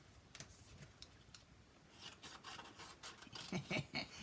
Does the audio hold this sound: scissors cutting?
yes